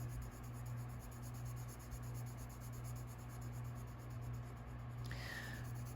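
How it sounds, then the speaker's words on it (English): Hard colored pencils scratching across paper in a soft, continuous rasp under a steady fan hum, faint and close, with a brief higher squeak near the end. "So these pencils I can hear as I'm coloring on the page"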